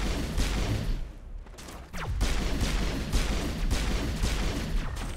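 Sustained rapid gunfire in Mass Effect Legendary Edition, loud and close with dense overlapping shots, broken by a brief lull and a sweeping effect before the firing resumes.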